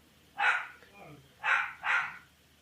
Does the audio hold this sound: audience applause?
no